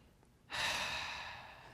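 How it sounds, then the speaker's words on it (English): A single big, deep inhaled breath, starting abruptly after a short quiet moment and holding as a loud, airy rush close to the mic before slowly easing. "Then we're going to take that big deep breath."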